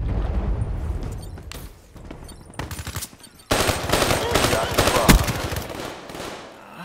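Rapid bursts of automatic gunfire and single shots crackle in a video game shooter match, loud and close, with a brief lull before a dense fusillade resumes.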